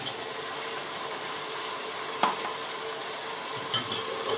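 Goat meat dropped onto lightly golden onions in a pan sizzles with a constant hiss, broken by a couple of brief scraping clicks from a spoon stirring it, close and steady throughout.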